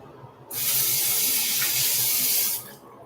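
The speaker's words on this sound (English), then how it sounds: "I'm gonna put some more water in it." Water from a spray bottle is spritzed onto freshly washed hair during detangling, one continuous close hissing spray lasting about two seconds, starting and stopping sharply over faint background noise.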